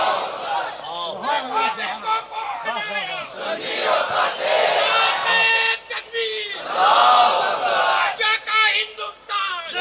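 Large crowd at an Islamic religious gathering shouting a loud collective chant in reply to a Takbeer call, voices surging in repeated bursts with a leader's voice in between.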